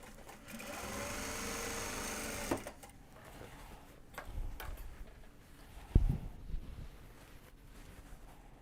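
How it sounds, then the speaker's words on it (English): A sewing machine stitches Japanese fabric for large box bags, whirring loudly for about two and a half seconds, then falls quiet under scattered soft clicks and handling knocks. "the sound of the sewing machine is pretty soothing"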